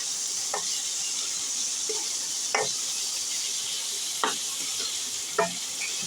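Corn kernels stirred in a sizzling frying pan while making white sauce pasta, a steady hiss of frying under four distinct scraping stirs of the spoon against the pan, close and moderately loud, with no talking.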